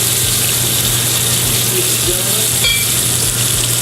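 Mushrooms sauté in a hot pan with a loud, dense, continuous sizzle heard up close, the hiss steady from start to finish with a faint scrape of stirring mixed in.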